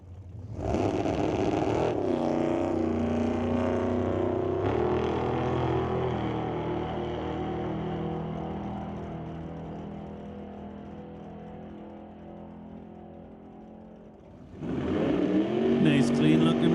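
A Quality Racing Duster drag race car roars past on a run, a loud sustained engine blare that fades slowly, then a second loud burst of engine noise near the end, with an announcer talking over it.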